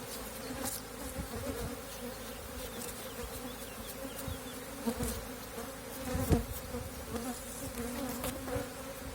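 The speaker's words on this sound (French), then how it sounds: "Donc il faut éliminer les abeilles." Dense, continuous buzzing of many honeybees close by around a hive, a steady hum with occasional louder passes and faint rustles, no voices.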